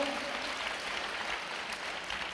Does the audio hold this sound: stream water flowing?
no